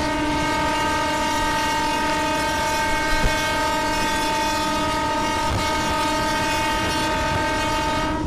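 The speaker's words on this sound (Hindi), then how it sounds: "चलो अब हॉर्न बजा कर डिपार्ट करते हैं।" A Mumbai local train horn in a train simulator game blares in one long steady tone for the full length, loud and close, over a low rumbling engine bed with no talking.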